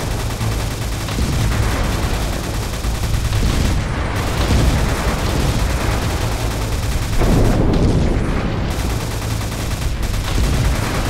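The single gun in the video game Alien Destroyer fires without letup, a dense, loud, rapid stream of shots and booms that barely pauses for eleven seconds.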